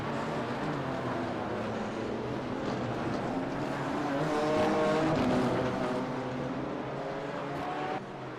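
GT3 and GT4 race cars roaring around Virginia International Raceway in a sim racing game, engines droning steadily and loud with rising and falling pitch as they pass, no voices.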